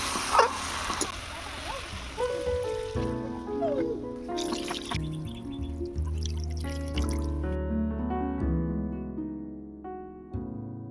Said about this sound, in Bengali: সবজিগুলো আমি ভালো করে কষিয়ে নিয়েছি এবার পরিমাণ মতো জল দিয়ে দেবো